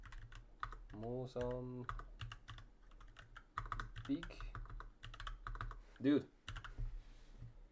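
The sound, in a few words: typing on a computer keyboard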